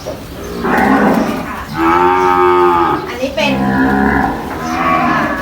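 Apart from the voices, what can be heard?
cattle mooing on a farm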